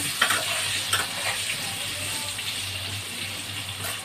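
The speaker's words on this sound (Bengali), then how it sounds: "এবার একটু লাল লাল করে আলুটাকে আমি ভেজে নেব।" Potatoes seasoned with salt and turmeric fry in a pan with a steady, close sizzle that holds throughout, broken by a few stirring scrapes.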